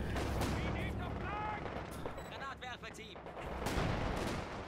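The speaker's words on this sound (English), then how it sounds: "Devastating mortar shell there, knocking out that vetted up sniper." Mortar shell blasts in Company of Heroes 2 battle, a heavy explosion followed by rolling gunfire and further impacts, loud and dense throughout, with excited commentary over it.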